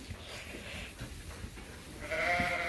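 Sheep ewes that lost their lambs this year, penned for shearing, with one clear nearby bleat rising at the end over faint background farm noise and no talk.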